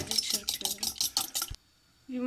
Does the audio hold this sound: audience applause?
no